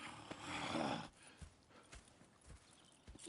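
Horse hooves clip-clop in Red Dead Redemption 2, a soft irregular run of hoof thuds on the ground after a brief louder rushing swell at the start, fairly faint and without voices.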